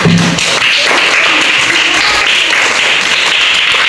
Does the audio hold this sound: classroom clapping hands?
yes